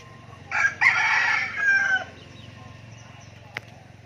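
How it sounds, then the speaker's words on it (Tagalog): A rooster crows loudly nearby, one long drawn-out call, followed by quieter farmyard background and a brief click. "dami mo ng manok"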